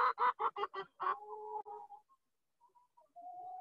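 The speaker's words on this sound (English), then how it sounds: "get a dozen hens." Backyard hens cluck nearby in a quick run of five or six sharp, close calls, followed by softer drawn-out warbling notes and a brief pause before another low trilling call.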